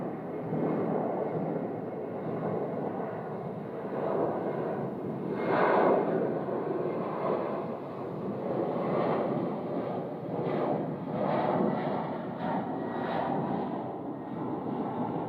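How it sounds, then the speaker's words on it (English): An arriving airliner, an Amazon cargo jet on approach to runway 25 left at Phoenix, a steady broad roaring rumble that swells and fades slightly over fifteen seconds, moderately distant with some wind buffeting. "We have an arrival coming in right there, Southwest Airlines. We'll be arriving on runway 25 left."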